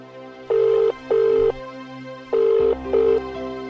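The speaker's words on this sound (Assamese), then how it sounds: "মই ফোন লগাই আছো পাপা কিন্তু তাই ফোনটো ৰিচিভ কৰা নাই" A phone ringtone sounds in four short repeated bursts with brief gaps between them, ringing on without being answered.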